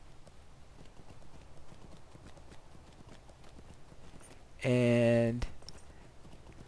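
Goat mount hooves clopping in the Lord of the Rings Online video game, a steady rhythmic patter of hoofbeats running throughout at moderate level, briefly overlapped by a loud tonal game sound near the end.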